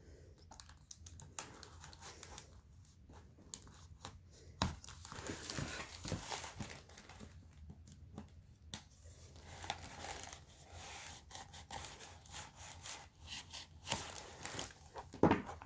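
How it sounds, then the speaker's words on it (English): Tape is peeled away from the protective cover of a library book, giving close, intermittent tearing, crackling and tapping sounds with uneven bursts of activity. "right now I'm just gonna take the tape off"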